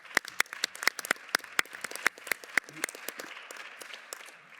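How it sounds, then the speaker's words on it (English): A conference audience applauds, their claps sharp and distinct, loud at first and then thinning into a softer, scattered patter with a little murmuring. "So also a big applause to them."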